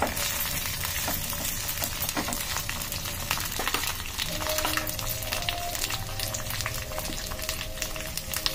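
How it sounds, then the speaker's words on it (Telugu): Food fries in a pan, giving a continuous close sizzle with scattered crackles and occasional utensil taps that stay even throughout. "ఇది కొంచెం వేగాలండి, పచ్చివాసన పోయేదాకా వేగాలి."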